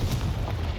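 A Confringo fire-blast spell explodes in Hogwarts Legacy, a low booming burst that rumbles on through the whole short moment, fairly loud and with no talk over it.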